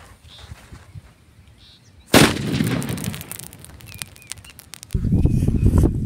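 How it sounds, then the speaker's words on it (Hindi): A loud, sharp explosion of a sutli firecracker bomb mixed with petrol bursts suddenly, followed by a crackling, popping roar that fades, then a second rumbling burst; birds chirp faintly outdoors. "आप लोगों ने एक्चुअली में देखा कितना बड़ा धमाका होता है जब हम VIP और पेट्रोल को एक जगह मिक्स करते हैं"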